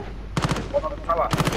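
Two rapid automatic bursts in Call of Duty: Modern Warfare, each a quick string of four or five close, sharp shots, with a brief gap between them and a faint voice in the pause.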